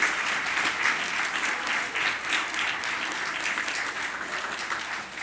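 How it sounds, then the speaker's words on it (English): Sustained audience applause at a Kid Governor inauguration ceremony, dense and steady clapping from a large room that fades slightly toward the end. "So give yourselves a round of applause."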